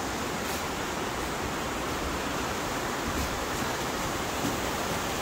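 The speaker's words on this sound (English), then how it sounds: "I'm gonna go in those waterfalls down there" Steady broadband roar of tropical waterfalls at Kulaniapia Farms, a continuous rushing wash of falling water holding even throughout, with no voices over it.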